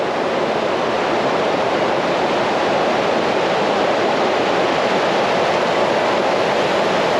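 A river rushes through a narrow gorge it has carved, making a steady, dense roar of flowing water that stays loud and unbroken throughout with no voices.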